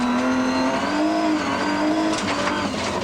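Onboard a rear-wheel drive BMW rally car on gravel during the 1999 Rally of South Africa, the engine roars loud and continuous, its pitch rising and falling through gear changes with a brief high squeal near the end.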